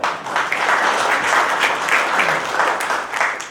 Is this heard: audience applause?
yes